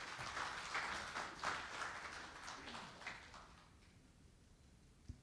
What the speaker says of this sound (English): Please give him a warm applause, everybody.